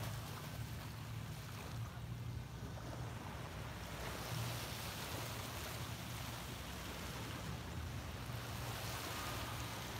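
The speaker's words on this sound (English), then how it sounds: "soak in the sounds of the waves" Ocean waves rolling onto a beach, a continuous soft roar of surf with steady wind noise, distant and even in level, with no voices.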